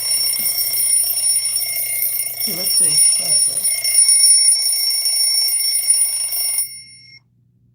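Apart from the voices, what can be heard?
alarm clock ringing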